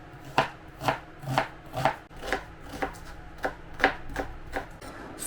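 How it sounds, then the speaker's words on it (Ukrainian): Knife chopping four medium onions on a cutting board, a steady run of sharp, evenly spaced chops close to the microphone, with no talking. "Наріжу 4 цибулі середніх загальною вагою 150 грамів"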